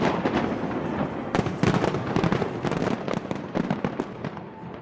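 New Year fireworks burst over Times Square in a dense run of sharp cracks and booming pops, loud and rapid-fire with echoing rumbles between explosions.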